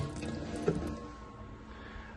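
Water running from the onboard tank of a Laser 575 steam cleaner, a soft steady continuous stream at low level with no talking.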